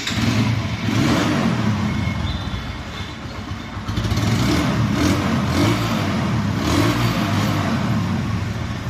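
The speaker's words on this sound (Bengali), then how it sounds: "দেখুন বাইকটির সাউন্ড কন্ডিশন" A second-hand red TVS Apache RTR 160 2V motorcycle engine runs close by, its steady mid-pitched drone swelling with throttle blips and easing back, loud and continuous with no talking.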